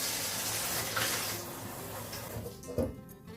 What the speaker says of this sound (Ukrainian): заливаємо водою холодною